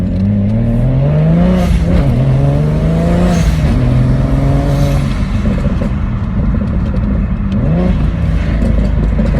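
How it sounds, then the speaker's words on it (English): A BMW 335i E92 fitted with an IRP short shifter revs loudly and close up. The engine note climbs, drops sharply at each gear change, then climbs again through several shifts. "I just love shifting in this car, man."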